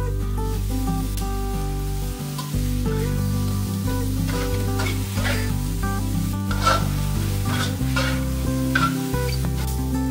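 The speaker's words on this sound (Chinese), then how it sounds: "将青椒炒软" Green peppers stir-fried in a pan with a little salt, a continuous sizzle with scraping stirs and occasional spitting bursts, close, playing beneath steady background music with no speech.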